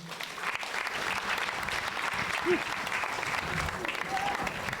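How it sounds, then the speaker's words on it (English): Audience applause for a storyteller at a performance event, moderately loud and steady clapping with a few faint voices and brief whoops mixed in. "can you give her a round of applause, please?"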